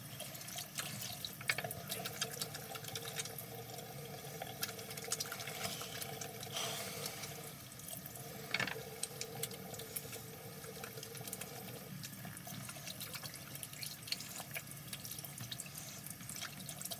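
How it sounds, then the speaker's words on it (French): Tap water runs steadily into a sink while someone washes their hands, a low continuous splashing stream with faint drips and small clatters, heard alone without speech. "je vais me laver les mains, je reviens."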